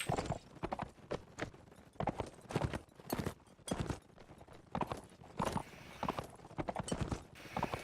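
Horse hooves clip-clop in a rhythmic, fairly close series of sharp knocks inside a competitive multiplayer video game match, repeating steadily with short gaps, with no voices heard.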